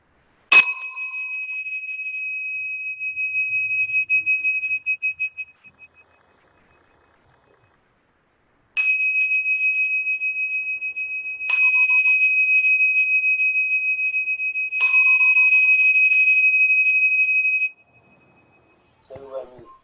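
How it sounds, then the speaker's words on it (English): A meditation bell rings out at the start of a practice session, with several clear, sustained chimes struck at intervals. Each tone rings on and fades into near silence. "I will sound the bell to begin practice"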